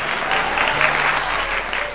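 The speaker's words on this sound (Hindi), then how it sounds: "जोरदार तालियां अशोक यादव जी के लिए।" Loud, dense audience applause for Ashok Yadav at a Hindi Diwas poetry gathering, a steady wash of clapping that holds for two seconds without voices.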